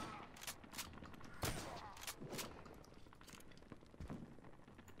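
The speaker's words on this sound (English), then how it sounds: "This shotgun be potent." Shotgun blasts in the shooter Return to Castle Wolfenstein, a few sharp, punchy reports spaced out over the game's quiet background, fairly faint overall.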